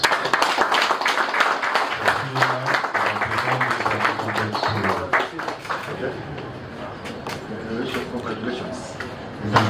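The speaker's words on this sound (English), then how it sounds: "You can clap." Audience clapping at a launch ceremony for an examination centre, scattered and uneven claps from a modest indoor gathering, with people talking over and between them as the clapping thins out.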